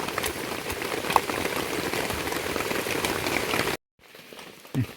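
Steady rain patters loudly at a forest camp, a dense close hiss of drops on surfaces that cuts off abruptly near the end, leaving faint quiet rustling.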